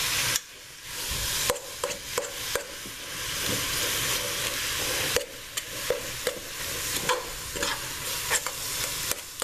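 Ground beef and sweet Italian sausage fry in a pan for chili, a steady loud sizzle broken by repeated scraping stirs and short clacks of the utensil against the pan, close up with no talk.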